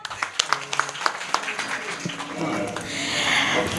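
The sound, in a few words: audience applause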